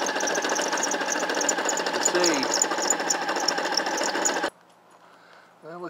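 Car engine warming up with a rattling, clattering noise from a recently redone clutch, loud, steady and close for about four seconds before cutting off, followed by a brief spoken remark.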